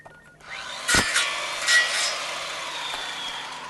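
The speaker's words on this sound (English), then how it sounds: "Saw." Sawing with a hand saw at a high school fan day carpet-replacement skit, a few rough scraping strokes, moderately loud over quiet background.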